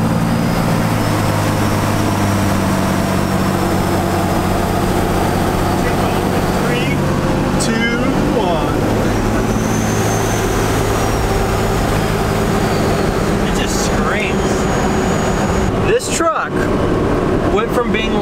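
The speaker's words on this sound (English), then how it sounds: "Let's listen to that turbo" Cummins 12-valve diesel with a compound turbo setup runs steadily at close range, a continuous low engine drone with a rising whine and hiss overhead, with someone talking briefly over it.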